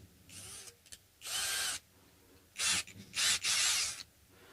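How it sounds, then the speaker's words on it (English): A small drill bit bores a pilot hole in a pre-amp pedal enclosure, the drill whirring in several short bursts of varying length separated by pauses, close and fairly loud. "the small drill bit is just going to drill the initial pilot hole"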